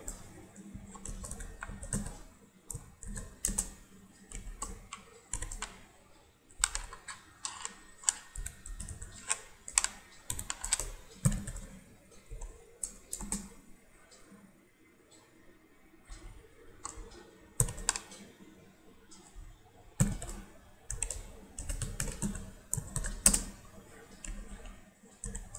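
Java code is typed on a computer keyboard, with fast clattering bursts of keystrokes broken by short pauses over a long stretch, close and dry with no voices.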